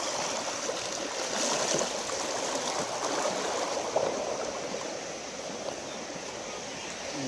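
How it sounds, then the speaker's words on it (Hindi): A small river runs through forest past a wooden bridge, and its water flows in a steady, broad rushing wash that stays constant for several seconds, with no voices over it. "बीच में से छोटी सी नदी आ रही है"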